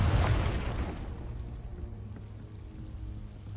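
Confringo blasting spell explosion in Hogwarts Legacy: a loud burst at the start that decays into a lingering low rumble and crackle, fading over a few seconds.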